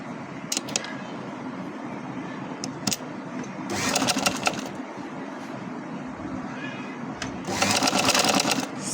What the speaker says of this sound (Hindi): ये देखें आप, इसको हम सिलाई लगा रहे हैं